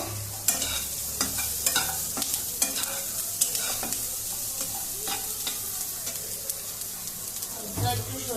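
Food being stir-fried in a pan until lightly browned, loud repeated scraping strokes of a spatula over a steady sizzle, with a low hum beneath.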